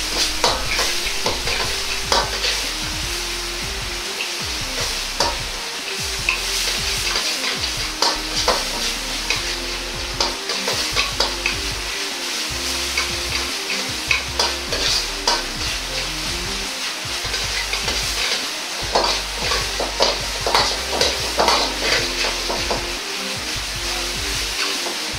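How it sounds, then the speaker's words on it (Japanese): Miso stir-fried in oil over low heat for a cucumber meat-miso dish, a steady soft sizzle running throughout with regular scraping strokes of the spatula against the pan. "ここでも味噌は焦げないように弱火で炒めます。"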